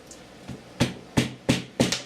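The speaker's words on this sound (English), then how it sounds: "I'm just going to tap this side of the hammer" Five light taps in a steady rhythm, growing a little firmer after the first, each a short soft knock close by with no talking.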